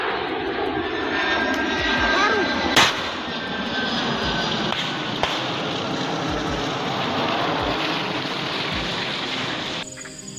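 An Indonesian military (TNI) transport plane's engines drone steadily and loudly for about ten seconds, a broad, even roar that cuts off abruptly at the end.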